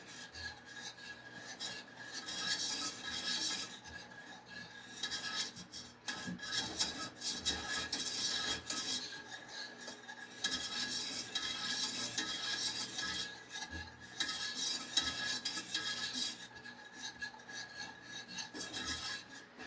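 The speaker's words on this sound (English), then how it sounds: "Until you're able to use the whisk easily to stir it." A whisk scrapes and stirs a thick homemade hand sanitizer mixture in a pan over low heat, a steady raspy rubbing that continues throughout at moderate, close level with no talking.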